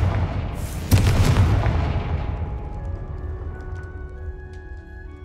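A Confringo spell explodes in Hogwarts Legacy with a single booming blast that rolls into a long, fading rumble and debris crackle over several seconds.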